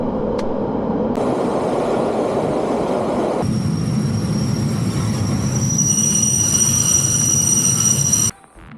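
A train rumbles steadily along the rails, loud and close, with a high metallic whine joining partway through before the noise suddenly cuts off.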